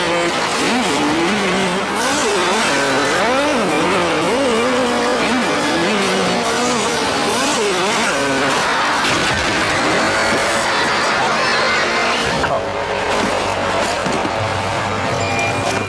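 A riderless dirt bike races off after its rider crashes in a power slide during a motorsport race, its engine revving and wailing in rising and falling pitch amid crowd and track noise.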